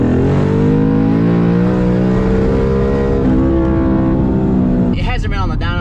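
A boosted Ford Mustang GT accelerates hard in second gear, its loud engine note climbing steadily in pitch before a sudden shift, heard from inside the car.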